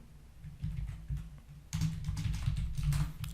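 Keyboard typing while entering text for a C++ programming lesson, close and moderately loud: scattered keystrokes early on, then a denser continuous burst of clicking over a low hum.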